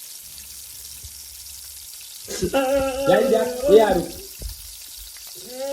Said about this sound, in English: Alright, throw the meat in the pot now.